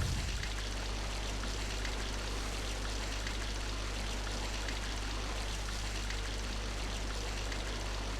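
Steady game water rushing from Zelda: The Wind Waker, water thick with ash in the Dragon Roost mountain area, a continuous dense flowing wash with a low hum beneath, even in level and uninterrupted.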